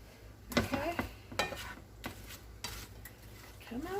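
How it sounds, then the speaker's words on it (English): Frozen vegetables hitting a hot pan for Puerto Rican dumplings with sautéed cod, a few clattering stirs and scrapes against the cookware over a soft, sputtering sizzle, close and fairly loud. "Let's hear some sizzling."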